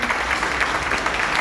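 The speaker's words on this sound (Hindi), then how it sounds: "एक बार जोरदार ताली" An audience at an FPL India success-story event gives loud, sustained applause, dense clapping filling the room throughout.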